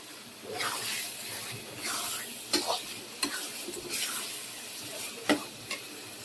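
Meat curry sautés in a pan with a steady broadband sizzle, broken by several sharp spatula scrapes and stirs, close and moderately loud.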